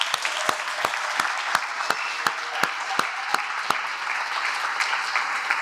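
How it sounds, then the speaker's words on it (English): Audience applause at a live real estate event: a continuous wash of clapping, with a few sharper individual claps standing out at a regular pace before they thin out near the end. "let's give Andrew and Michelle a big round of applause."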